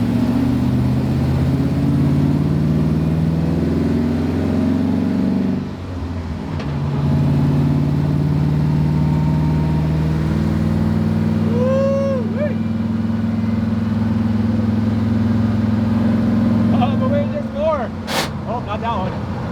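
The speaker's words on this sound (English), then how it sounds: "All right, first ever freeway drive." A Chevy Nova with headers drones steadily at speed on its first freeway run, a loud continuous engine roar with brief dips, under an occasional voice and a few faint squeaks.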